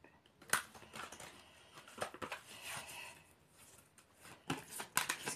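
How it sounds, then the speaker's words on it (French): Tarot cards shuffled by hand during a reading, soft riffling and sliding bursts with a few sharper snaps, quiet and close, no voices. "Je vais rebrasser."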